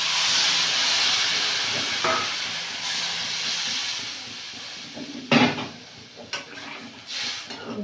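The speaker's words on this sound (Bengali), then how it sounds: "এবারে জল দিয়ে দেব" Water poured into a pan of frying kohlrabi and potatoes with tomato and cumin paste, a loud hiss of steam that fades, followed by a few clinks of utensils against the pan.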